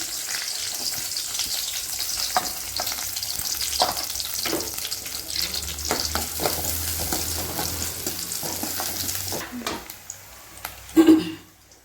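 Chopped large onion dropped into plenty of hot oil for a drumstick gravy, a loud bright sizzle with stirring scrapes and clinks, fading near the end as a voice speaks briefly.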